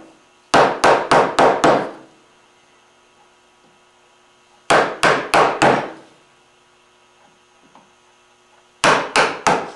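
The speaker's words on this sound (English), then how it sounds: "as you hammer the chisel down or mallet the chisel down, it'll kind of dive back into the wood." Mallet striking a chisel into curly maple, heard as three separate bursts of five or six sharp, crisp knocks in quick succession, with pauses between bursts over a faint steady hum.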